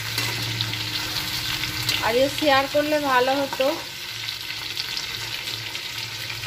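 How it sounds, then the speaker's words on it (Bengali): Pointed gourd and potato pieces fry in a pan with salt and turmeric, making a loud, continuous close-up sizzle, while someone speaks briefly over it midway. "দেখো পটল আলু ভাজছি"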